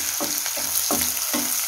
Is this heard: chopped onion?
yes